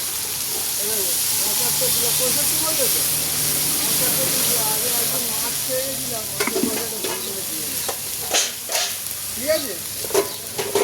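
Vegetables including ivy gourd, potato and drumstick sizzle and hiss steadily in a hot pan while being sautéed with turmeric and salt, with occasional louder stirring scrapes toward the end.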